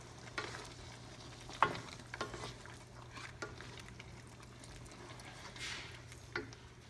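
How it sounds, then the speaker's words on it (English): A spoon stirs pork pata humba in a pot, its sauce thickened with cornstarch, producing quiet scraping knocks and soft wet bubbling over a low steady hum, with a few sharper clinks. "Okay, and we'll give it a stir"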